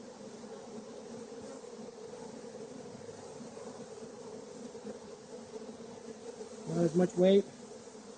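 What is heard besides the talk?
honey bees buzzing in an opened hive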